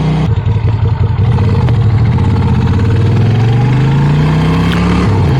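A Moto Guzzi V7 Stone motorcycle engine runs loud and close, rising steadily in pitch as the bike accelerates away from a neighborhood, with a brief dip near the end.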